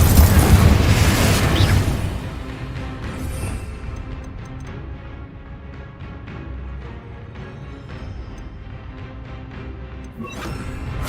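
Confringo explosive spell going off in Hogwarts Legacy: a loud booming blast with a rushing burst that decays into a lower rumbling game ambience, and a second sharp whoosh near the end.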